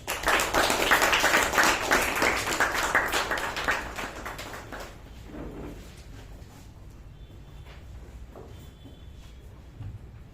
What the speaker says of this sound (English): let's welcome Toastmaster Latha with a resounding round of applause